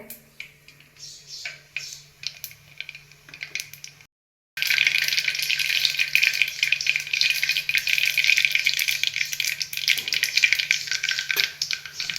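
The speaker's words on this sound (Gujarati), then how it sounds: "હાલો હવે શાકનો વઘાર કરી રહ્યા છીએ।" Tempering crackles and sizzles in hot oil for a home-cooked vegetable curry, a loud, dense, continuous frying hiss that bursts in after a brief silence, following some lighter clatter and faint talk.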